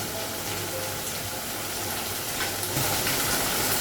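Spices seasoned with ground cumin and salt sizzle and fry in a pan on a gas stove, a constant close crackling hiss that grows slightly louder toward the end.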